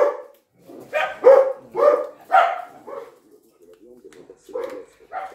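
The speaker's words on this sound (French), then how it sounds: "Un chien qui aboie pour rien, j'en peux plus de ce chien." A dog barks repeatedly in short loud bursts, some yelping and whiny, close by, with a pause before a final pair of barks.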